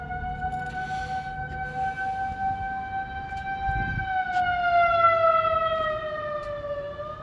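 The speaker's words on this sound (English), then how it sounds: "we have a tornado warning blowing, siren." A civil defense siren sounds a tornado warning, its long sustained wail holding steady then slowly falling in pitch as it rotates, fairly loud and continuous outdoors with no talk.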